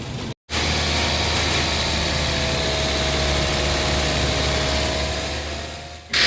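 A Toyota Vios engine being accelerated during coolant bleeding for a coolant overflow and thermostat problem, giving a steady, loud, close mechanical drone with a brief dropout near the start.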